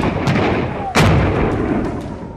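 Artillery fire from Bofors guns in the Kargil war: a single loud, sharp blast near the middle, with a dense rumbling battlefield background before and after.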